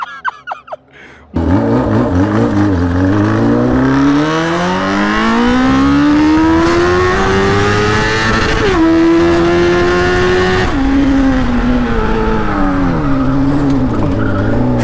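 A Honda Fan 600R motorcycle with only a straight pipe roars along a street, a loud, raw engine note that climbs steadily through the gears, dips on a shift and rises again after a brief low rumble.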